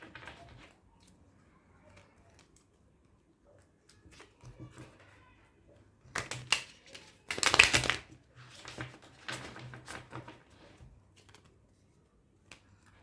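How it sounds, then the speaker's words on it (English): Stiff tarot cards being shuffled, a cluster of papery riffles and snaps in the middle of the stretch with quieter rustling around it; faint speech sits low in the background. "let me just shuffle the cards."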